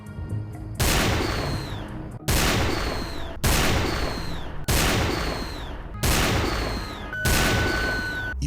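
Gunfire in a video game, rifle shots fired in a steady series of about six sharp blasts, each ringing out with a decaying tail, loud and close with no voices.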